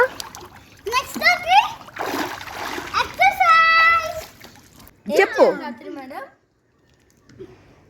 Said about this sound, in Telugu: అట్లా జంప్ చేయాలా ఓకే అలా నేర్చుకోవాలన్నమాట స్విమ్మింగ్